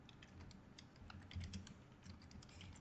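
Typing on a computer keyboard during a tabletop role-playing session, a rapid irregular run of key clicks with a few louder strokes, close and fairly quiet, no voices.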